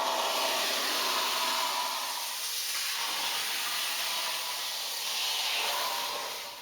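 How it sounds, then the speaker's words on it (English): A vacuum cleaner runs steadily close by, sucking up wood chips from a dolls house being prepared for redecorating, a loud, continuous airy roar with no talk and a slight dip partway through. "So now time to get the vacuum cleaner out."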